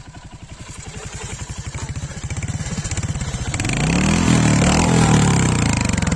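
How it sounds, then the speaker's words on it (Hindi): Royal Enfield Hunter 350 motorcycle exhaust, loud and close: a steady thumping single-cylinder idle that swells into a stronger, smoother rev as the throttle opens, with no talking. "आप लोग को सुनाता हूँ मैं इसका एग्जॉस्ट, आप लोग सुन के देखो कैसा है।"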